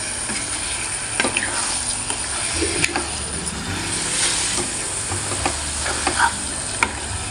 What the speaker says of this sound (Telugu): కారం వేసి ఇట్లా కలుపుకోవాలి. మెల్లగా కలుపుకోవాలి.